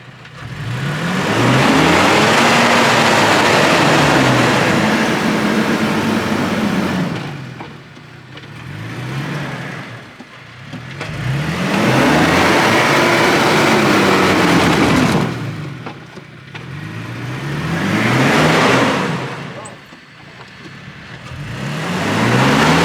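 A Toyota Tacoma with an automatic transmission, working in low range through deep sand, revs hard in three long surging swells that rise and fall, a loud close engine roar with no talk over it.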